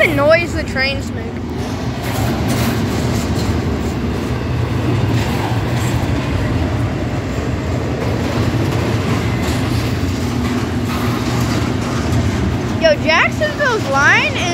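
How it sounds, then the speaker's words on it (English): A train rolls past in Jacksonville, Florida, with a loud continuous rumble and clatter of railcars, wheel squeals rising near the start and again toward the end. "I love the noise the trains make."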